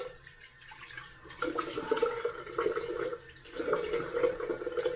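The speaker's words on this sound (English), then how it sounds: "wash my face with some warm water" Warm water splashes and trickles as a face is washed at a sink, soft close sloshing and dripping in uneven bursts, fairly quiet throughout.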